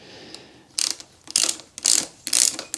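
A 5mm Allen key on a ratchet loosening the handlebar clamp bolts of a KTM motorcycle, with four short bursts of metallic ratcheting clicks, close and crisp, no speech.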